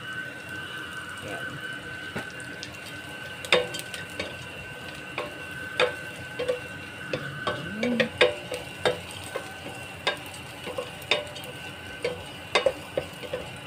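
Garlic, onion and dried anchovies fry in a pan with a low crackling sizzle. A voice talks over it, and repeated sharp clicks and taps from a utensil against the pan run throughout.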